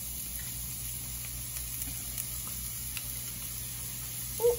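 Red onions sizzling softly in a pan on a stovetop while cooking polenta and oxtails, a steady low frying hiss with faint crackles and a brief louder pop near the end.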